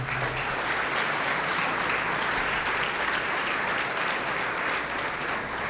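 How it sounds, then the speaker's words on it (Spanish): A church congregation claps together in a sustained, dense round of applause at an evangelical service, steady and even throughout with no clear individual voices standing out. "Denle un aplauso al Señor."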